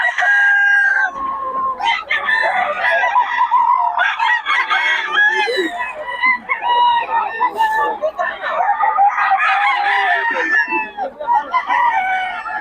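Several roosters crowing and clucking at a market in Bocaue, loud and close, calls overlapping almost continuously, with chatter from people mixed in among the birds.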